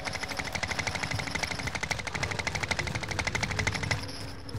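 Rapid automatic gunfire from Call of Duty: Modern Warfare, a steady fast stream of shots for about four seconds that cuts off near the end, loud and close with no talking.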